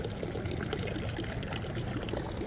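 Cold water pouring steadily from a public drinking fountain in Milan as someone washes their hands, a continuous close splashing rush with no talking.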